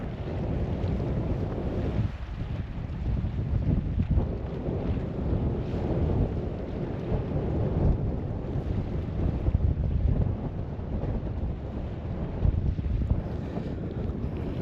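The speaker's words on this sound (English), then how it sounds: "As you can hear, it is windy." Strong, steady wind roars and buffets the microphone on a harbour breakwater in Holyhead, Anglesey, a continuous loud rush with gusty surges throughout and no voices.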